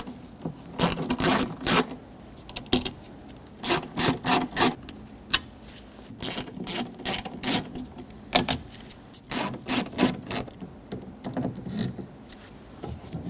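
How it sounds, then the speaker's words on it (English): Phillips screwdriver unbolting the window motor from the rear window regulator inside a door of a 2006-2010 Hyundai Sonata, heard as close, repeated bursts of scraping and ratcheting metal on metal in clustered rhythmic strokes with short pauses. "Using a Phillips head screwdriver, let's unbolt the window motor off of the regulator."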